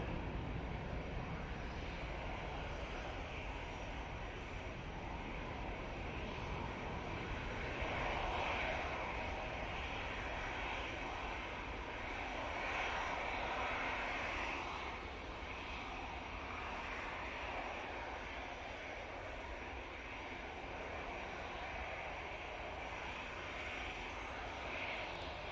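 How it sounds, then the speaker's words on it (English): A Qatar Airways Boeing 777-300ER departs Manchester Airport for Doha, a continuous, fairly distant jet engine roar rising and falling gently across roughly twenty-five seconds with no voices. "going back to Doha, using the 777-300ER"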